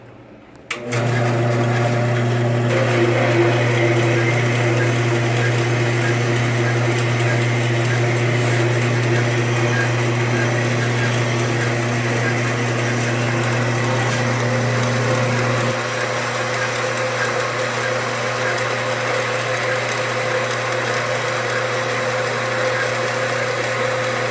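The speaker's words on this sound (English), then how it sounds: "So we're going to go ahead and start cutting this aluminum" Harbor Freight metal-cutting band saw slicing through aluminum, a steady loud motor hum with the blade's grinding whine running continuously; partway through, the low drone drops and the cut carries on at a slightly lighter tone.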